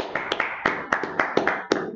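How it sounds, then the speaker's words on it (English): An audience claps in a burst of loose, uneven hand claps at a religious gathering, about eight sharp hits spread over two seconds, fairly close and lively. "Clap it up."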